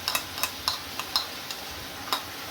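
A ground paste of cashews, almonds, chili and six garlic cloves being stirred in a pan, with a steady low sizzle and a handful of sharp utensil taps against the pan at an uneven pace.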